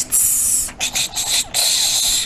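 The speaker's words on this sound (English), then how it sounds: "what you're hearing is she's producing an oral S" A speech therapy patient holds a sustained oral S, a steady high hiss broken by a few short gaps, close and fairly loud with no talk over it.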